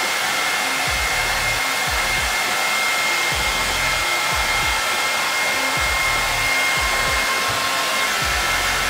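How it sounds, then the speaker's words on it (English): A hair dryer blows steadily and loudly throughout as a barber dries and lifts a flat top haircut. The whine stays continuous while the low airflow rumble pulses as the dryer is moved. "The hair drying part of this haircut is so important to get it all nice and get it all standing up"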